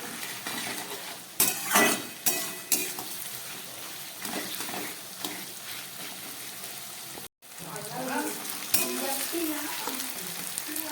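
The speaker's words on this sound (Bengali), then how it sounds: "এবারে আমি কিছুটা ক্যাপসিকাম আর টমেটো দিয়ে দিলাম, দিয়ে এটা এবার আবার একটু ভেজে নেব ভালো করে" Capsicum and tomato frying for chicken curry, a steady sizzle broken by close stirring scrapes and a few clanks of utensils against the pan, with no talk over it.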